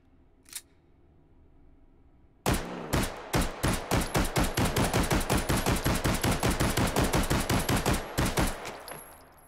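CX4 carbine firing in the VR game Hot Dogs, Horseshoes & Hand Grenades, a rapid string of about thirty close, sharp shots in steady rhythm after a single earlier click, then silence.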